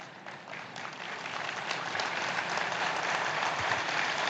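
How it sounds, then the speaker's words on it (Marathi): Audience applause at a Shiv Sena political rally in Mumbai, a dense crowd clapping steadily and growing slightly louder across the stretch. "इच्छुक अजून जोरात टाळ्या मारतात."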